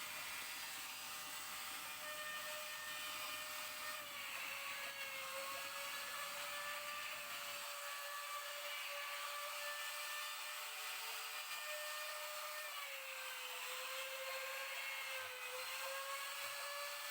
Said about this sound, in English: I use the router itself directly to make a hole.